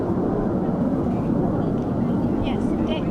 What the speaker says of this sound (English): We have jet noise.